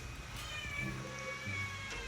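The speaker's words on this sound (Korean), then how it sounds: "예쁜 고양이를 한번" A cat meows indoors as a family greets it, with soft, short calls under quiet room noise.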